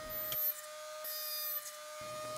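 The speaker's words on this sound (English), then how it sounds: "I'm going to use the rotary tool again, but this time with the drill attachment" A handheld rotary tool with a drill attachment bores pilot holes for buttons, giving a steady high electric whine with brief bursts of contact noise and a pause in between.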